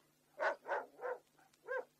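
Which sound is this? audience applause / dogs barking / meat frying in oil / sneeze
dogs barking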